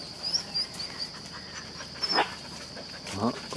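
A hunting dog panting and letting out short barks and whimpers while out on a hunt for cats, close and excited, with a high steady insect buzz behind it.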